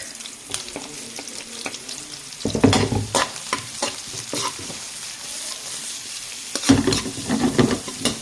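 Aromatics sizzling in hot oil for pork pakbet, steady frying hiss broken by louder bursts of stirring and scraping around three seconds and again near seven, close and alone without talk.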